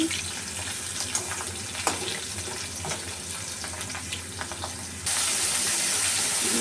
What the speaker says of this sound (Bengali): আগে আলুটাকে একটু ভেজে নিচ্ছি।